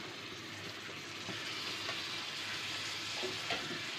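Shallots sautéing with coriander, mint and green chillies for biryani, a continuous dense sizzle with occasional stirring scrapes, close and steady throughout.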